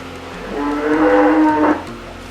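A dairy cow on a mixed farm gives one loud, close, drawn-out moo lasting just over a second, with quiet farm background before and after.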